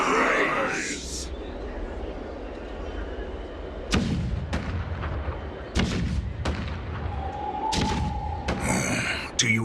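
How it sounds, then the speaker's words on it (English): Heavy cannon booms in a video game thud repeatedly over a rumbling battle din, several sharp blasts spaced a second or two apart, with voices faintly mixed in. "Do you hear that? The rumble of the cannons."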